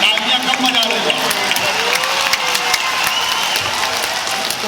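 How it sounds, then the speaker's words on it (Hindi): Audience at a Hindi poetry gathering claps steadily and loudly throughout, with voices talking and calling out over the continuous applause. "तालियां कम बजा रहे हो।"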